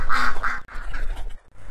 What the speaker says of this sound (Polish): Kaczki się śmieją